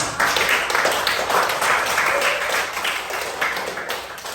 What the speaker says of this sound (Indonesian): Sekarang berikan tepuk tangan buat kalian semua.